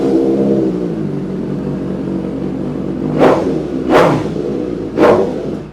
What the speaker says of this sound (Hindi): तो इस बाइक की मैं आपको आवाज़ सुनाना जरूर बनती है। इनलाइन 4 है तो आपको जरूर बनती है।